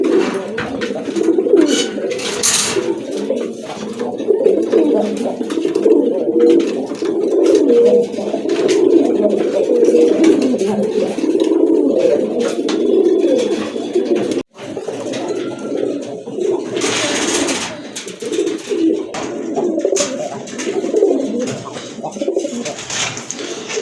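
Gorra pigeons kept for sale coo repeatedly in deep, rolling phrases, close and fairly loud, over faint background noise, with a brief sharp click midway.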